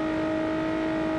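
Nissan 370Z Nismo engine in the BeamNG.Drive driving game, a steady loud synthetic drone holding two sustained pitches without a break, with no voices.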